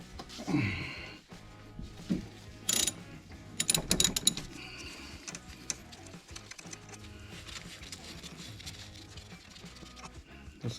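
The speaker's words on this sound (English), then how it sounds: "So we have to remove the 2 caliper bolts." On a Honda CR-V rear brake, a 12 mm wrench or ratchet loosens the caliper bolts, giving faint close clicking and metallic ratcheting with a few sharper clanks and no talk.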